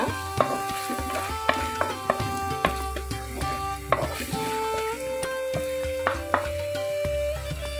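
Prawn thokku fries in a pan with pepper powder as a spoon stirs it, a continuous sizzle punctuated by regular clinks and scrapes against the metal, close and fairly loud with no voices.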